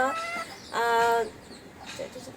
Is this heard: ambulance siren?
no